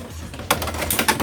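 Beyblade spinning tops launched into a stadium, a sudden burst of sharp metallic rattling and scraping clashes that starts abruptly and continues loud and close for about a second.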